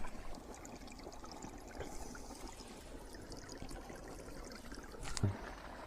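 Irrigation water flows steadily into a wheat field, a soft continuous trickle and gurgle heard alone at moderate distance, with a brief louder splash near the end.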